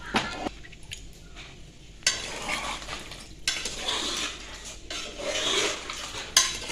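Chunks of tapioca tumble into a metal pressure cooker with rattling clatters and scrapes, in several bursts of loud clanking close by.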